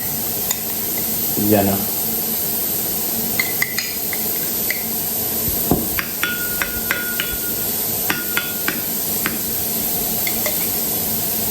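Tuna being mixed with mayonnaise in a bowl for a pizza topping, soft squishy stirring with repeated light spoon taps against the bowl, close, with a brief spoken word early on.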